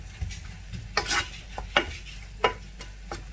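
Apples cooking in a pan with an occasional stir: soft steady sizzle under a handful of sharp spoon scrapes and clinks against the pan, spaced irregularly and heard up close, no voices.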